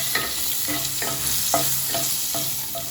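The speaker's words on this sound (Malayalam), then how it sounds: "നന്നായിട്ട് വഴറ്റുക. നന്നായിട്ട് വഴറ്റണം." Spices and turmeric sautéing in a pan, a bright steady sizzle marked by regular stirring scrapes roughly every half second, close and unaccompanied by talk.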